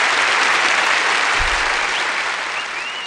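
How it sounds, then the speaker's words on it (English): Crowd applause in the video game Elmlor, a dense continuous patter of clapping that holds steady and eases slightly toward the end, with a brief low thump midway. "the clapping and whatnot has to go eventually"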